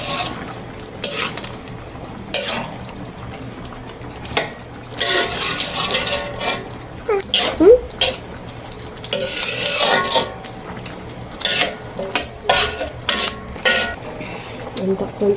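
A spoon stirs a sweet mixture in a pot with repeated scraping and clinking strokes in irregular bursts, mixed with kitchen clatter and occasional voices.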